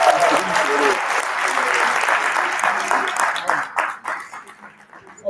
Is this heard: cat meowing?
no